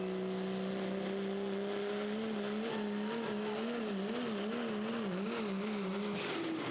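A pro stock diesel pulling truck drags a sled, its engine droning loud and steady, then wavering and bouncing as the ride turns violent and the sled slams behind.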